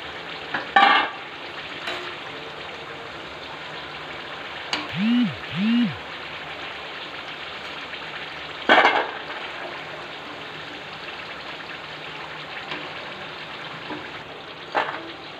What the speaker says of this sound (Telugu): అదేవిధంగా ఈ మిగిలినవి కూడా ఫ్రై చేసుకోండి